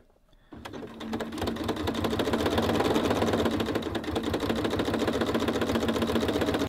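A sewing machine stitches down fabric piping as part of garment embellishment, running steadily and loud after a brief quiet start, its rapid needle rhythm continuing without pause to the end.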